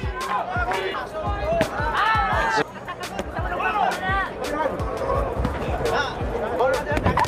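Boxing match crowd murmuring and shouting around the ring, a busy hubbub of voices with sharp punch and footwork thuds mixed in.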